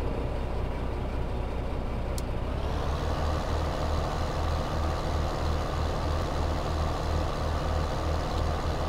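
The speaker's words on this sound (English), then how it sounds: "Why is the Kenworth slipping?" A Kenworth truck in the Farming Simulator 15 video game loses traction with its wheels slipping. A steady, loud engine drone runs throughout and shifts into a heavier, pulsing rumble after a couple of seconds, with no talking.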